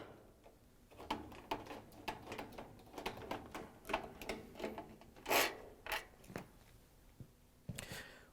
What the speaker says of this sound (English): we're going to use a 1/4-inch nut driver to take out the screws to hold the access panel on.